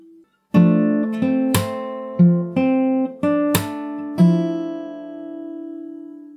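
Fingerstyle acoustic guitar plays a section of a song: a steady string of about seven plucked notes and dyads, close and clean, the last one left ringing out with no voice.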